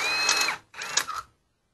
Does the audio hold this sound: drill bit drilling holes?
yes